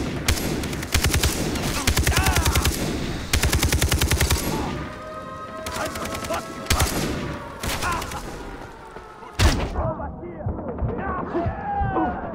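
Rapid automatic gunfire crackles in the Far Cry 3 video game, loud repeated bursts broken by short pauses and a heavy blast near the end, while game voices shout over the shooting.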